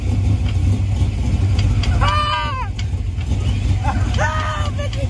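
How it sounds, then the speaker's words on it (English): A Foxbody Mustang engine idles steadily with a low rumble throughout, while two bursts of a higher whining or squealing tone rise over it near the middle and end. "But it's idling good now."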